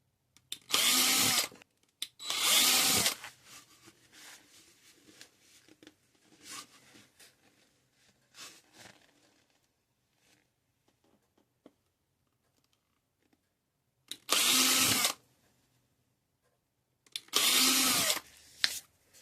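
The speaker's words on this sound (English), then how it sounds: "I'm going to drill holes with one of these little drills in here" A small power drill bores holes into a gourd for light beads, with four loud whirring bursts of one to two seconds each, separated by quieter scraping and handling sounds and stretches of near silence.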